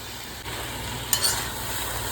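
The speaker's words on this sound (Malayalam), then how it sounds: "തേങ്ങ ചതുക്കിയത് ആഡ് ചെയ്ത് കൊടുക്കാം നമ്മൾ" Crushed coconut stirred in a hot frying pan, a soft steady sizzle with light scraping, close and fairly quiet.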